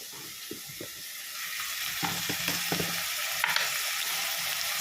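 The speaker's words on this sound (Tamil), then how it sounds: "இப்போ தேவையானது உப்பு போட்டு வதக்கலாம்." Masala with chili powder and salt sautés in a pan for a gravy, a constant close sizzle with a few soft scraping stirs and no talking.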